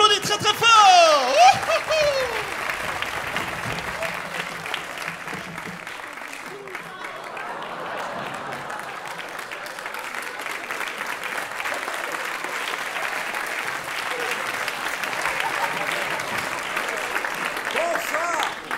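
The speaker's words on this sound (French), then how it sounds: "On les applaudit très très fort." An audience applauds a ventriloquist act in a concert hall: sustained, even clapping from a large crowd that carries on steadily for the whole stretch, with a brief voice and whistle-like tones near the start.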